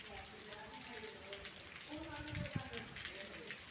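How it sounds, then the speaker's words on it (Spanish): Light drizzle lingering after a heavy downpour in Holguín, Cuba: a faint, soft patter of small drops on surfaces, with a murmur of voices underneath and scattered brief tonal sounds. "ya está minorando la lluvia, pero ahora queda el chinchín"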